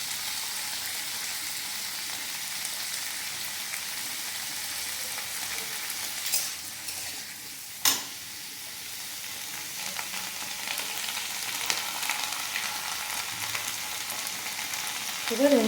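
A handful of green chillies frying in oil in a pan give a steady, even sizzle up close, broken by a single sharp clatter partway through.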